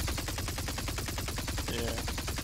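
Rapid automatic gunfire in the VR shooter Solaris on PlayStation 5, a fast even stream of sharp shots at a steady rhythm, fairly close and continuous throughout with no talk.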